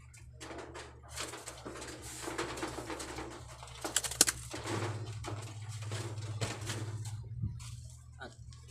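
Pet pigeons being bathed to rid them of lice, with soft cooing and bird calls mixed with splashy, scattered water noise and occasional sharp knocks, close by and moderately loud.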